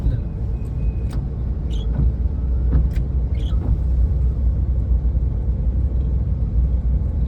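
A steady, low engine rumble from inside a moving Swift VDI car accelerating toward third gear, with road noise and a few faint clicks over the drone.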